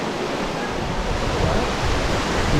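Etiwanda Falls waterfall pouring steadily on a hiking trail, a dense continuous rush of water close by with no break over the whole stretch.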